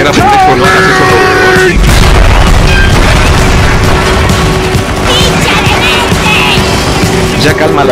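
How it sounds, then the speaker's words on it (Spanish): A booming explosion in the Counter-Strike GO Zombie Escape mod, a loud sustained blast and rumble filling the whole stretch, with crashing debris and a voice talking over it. "No sé quién provocó esa explosión"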